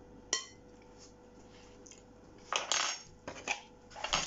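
Metal spoons clink against a bowl while cinnamon roll filling is tasted in a home kitchen: a sharp single tap, then a cluster of quick clinks and scrapes, close and fairly quiet.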